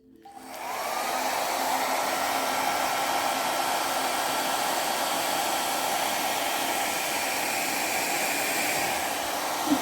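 A hair dryer blows out a fluid art paint pour for a cherry blossom design, a loud, steady airy roar that ramps up in the first second and holds evenly for nearly ten seconds, with no voices.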